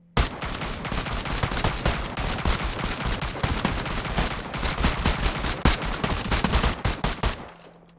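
Rapid gunfire during an alternating shooting drill, a dense, continuous string of loud close shots over several seconds that stops abruptly near the end.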